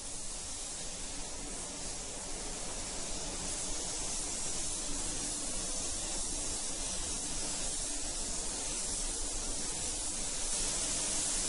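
A paint spray gun lays a second coat onto a car, giving a continuous, even hiss of atomized paint that holds steady throughout, fairly close and with no voices over it.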